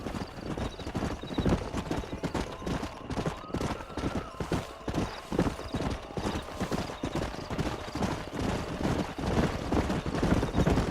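In Red Dead Redemption, several horses clip-clop in a fast, steady galloping rhythm, the hoofbeats close and continuous, with faint distant gunfire and a brief whinny mixed in.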